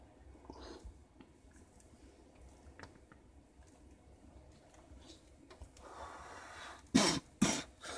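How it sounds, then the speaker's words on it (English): A person sitting in an old VW bus at a truck stop gives two loud, close coughs in quick succession near the end, after a stretch of quiet breathing and faint rustling. "Of course, I still got my lingering cough every once in a while."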